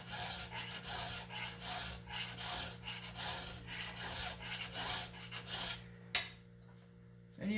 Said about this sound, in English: I'm trying to learn how to hand file